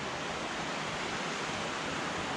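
A waterfall pours in a mossy northwestern forest at dusk, a constant broad rushing hiss with no break or change, steady and fairly close, nothing else heard over it.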